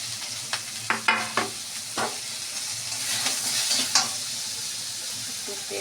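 Pointed gourd and spiny gourd fry together in hot oil, a steady sizzle with several sharp stirring clacks and scrapes of a spatula against the pan, fairly close and with no voices.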